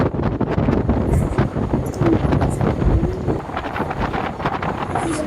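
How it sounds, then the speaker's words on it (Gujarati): Strong sea wind buffets the microphone at a seashore during light drizzle, a loud continuous roar and rumble with no pauses. "આ દરિયાનો પવન આવે ને એમાં અત્યારે ઝરમર ચાલુ છે વરસાદની"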